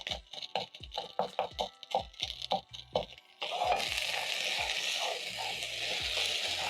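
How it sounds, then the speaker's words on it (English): Rice toasting in a pan while a spatula stirs it, giving a rhythmic series of scraping, rattling strokes that turn into a steady dry sizzle partway through. "So I'm going to use my spatula and stir the rice as it's toasting."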